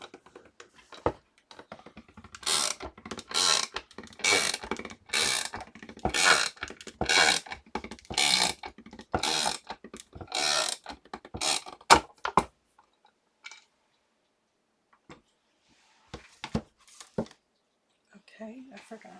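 Sizzix die cutting machine being cranked to push a crochet border die through, producing a run of rhythmic ratcheting clicks and grinding bursts, then a quieter stretch with sparse clicks and handling noises.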